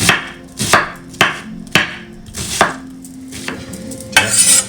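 A knife finely chopping onions on a cutting board, about eight crisp separate strikes in a loose, unhurried rhythm, close and fairly loud with nothing else around them.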